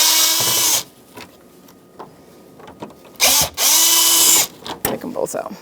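A power driver with an 8mm socket whirs in two short, loud bursts as it backs out Phillips mounting screws on a 1997-2006 Jeep Wrangler dash, with faint clicks and handling noise between the runs.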